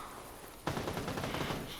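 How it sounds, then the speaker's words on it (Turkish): Rapid bursts of game gunfire suddenly erupt after a brief quiet moment, continuing as a dense, loud rattle. "Silah sesleri bir susmuyor"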